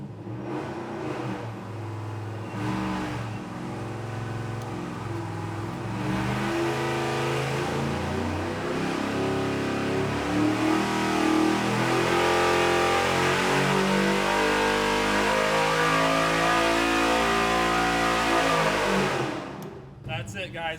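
A Chevy LS7 V8 roars through a dyno pull, its pitch climbing steadily over about nineteen seconds to a loud, sustained howl before cutting off abruptly at the end.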